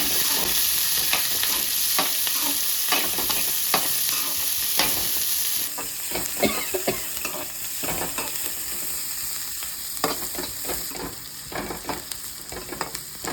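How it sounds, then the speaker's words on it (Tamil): A quarter kilo of small shallots fries in hot oil for chicken gravy, with a loud, steady sizzle and a run of scraping stir strokes. The sizzle eases partway through. "ரெடிக்கும் இந்த டைமே சின்ன வெங்காயம் போட்டு போகிறேன்"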